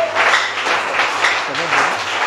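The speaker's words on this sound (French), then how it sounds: "Nous élevons le Seigneur par nos acclamations" A church congregation claps and acclaims together during worship, with a dense wash of applause under raised voices and a low hum beneath it.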